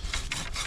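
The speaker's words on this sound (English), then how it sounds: "While JR slaves away processing wood and sawing" Wood being sawn by hand at a cold December mountain campsite, three rhythmic rasping strokes, close and moderately loud, with no talking.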